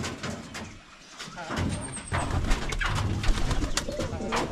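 Pigeons coo softly at a backyard loft in the Philippines, with low, rolling calls under a steady hum of outdoor background noise.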